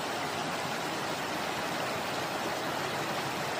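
Steady, dense rushing roar of Pișoaia waterfall in the Apuseni Mountains, an unbroken wash of falling water heard close and evenly loud throughout.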